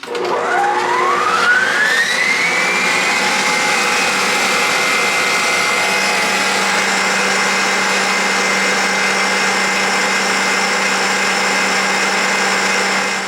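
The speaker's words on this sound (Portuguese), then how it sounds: "E agora a gente vai bater de novo em velocidade alta, a velocidade mais alta que tiver na sua batedeira." A stand mixer on its highest speed beats cookie batter, its motor whine rising quickly as it spins up, then holding a loud, steady high-pitched drone close by.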